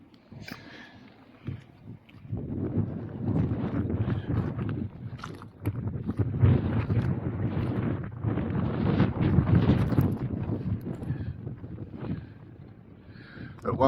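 Strong wind buffets the microphone on a foggy morning at the North Cape, a steady low roar rising and falling for most of the stretch, with some speech mixed in.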